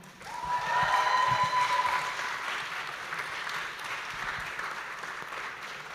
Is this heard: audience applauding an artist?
yes